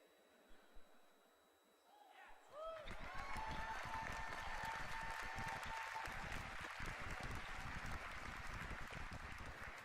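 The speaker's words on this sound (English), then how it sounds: "I hear people cheering" An audience at a World of Warcraft: Warlords of Draenor convention presentation breaks into sustained applause and cheering, swelling from quiet to a dense, loud roar that holds steadily to the end.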